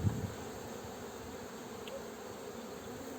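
Buckfast bees and drones buzz inside a hive, a faint, steady, even hum that runs without a break.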